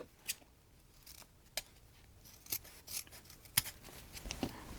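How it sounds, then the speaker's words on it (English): Dull scissors snip through ribbon for a rustic Christmas porch decoration, about a dozen short, crisp cuts scattered irregularly, close and quiet, with no talking. "These scissors are getting dull."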